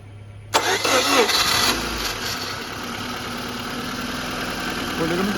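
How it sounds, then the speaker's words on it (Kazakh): A VAZ car engine cranks briefly and catches after fuel pump and spark repair, then settles into a steady mid-pitched idle close by, with no talk. "Қазір біз жинап, көлікті оталдырып көреміз."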